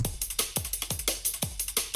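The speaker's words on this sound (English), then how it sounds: "kind of liquid drum and bass sound" A layered drum loop with a lead line forms a liquid drum and bass groove, with fast repeating kicks and snares, bright hats and a sustained melodic layer on top, loud and without voices.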